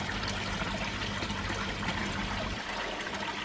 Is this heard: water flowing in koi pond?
yes